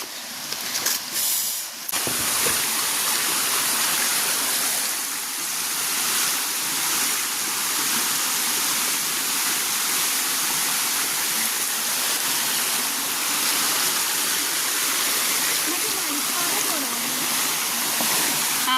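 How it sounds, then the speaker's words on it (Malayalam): A forest stream waterfall roars steadily and loudly from close by, a constant rushing wash of water after a brief scuffle at the start. "ഇവിടെ നന്നായിട്ട് വെള്ളച്ചാട്ടമുണ്ട്"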